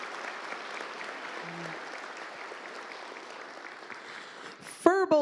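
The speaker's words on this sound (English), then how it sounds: "let's get a round of applause on those." A round of applause at a miniature painting awards ceremony, steady moderate clapping from a seated audience, ending as a voice resumes.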